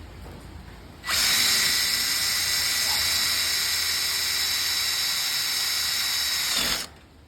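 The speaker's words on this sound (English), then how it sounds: "Now we're going to drill one hole and put in the first rivet to hold this bracket to the tube." A cordless power drill with a 3/16 bit bores a rivet hole through a ZipDee awning tube, whining steadily and loudly for nearly six seconds at close range before abruptly stopping.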